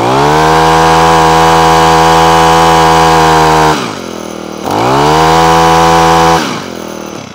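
A Honda HHH25 four-stroke hedge trimmer engine runs loud and close after a carburetor clean, holding a steady high rev, dropping briefly to idle, revving again, then easing off.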